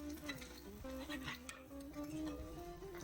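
Dosa batter snack frying in oil in a small pan, a steady close sizzle with occasional scrapes and stirring clinks, no voices over it.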